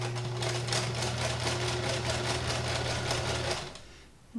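A vintage Kenmore 158.19311 sewing machine runs steadily at close range with a fast, even stitching rhythm and a constant motor hum, then slows and stops near the end.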